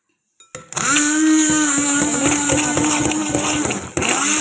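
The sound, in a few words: mixing strawberry dessert ingredients, likely with an electric mixer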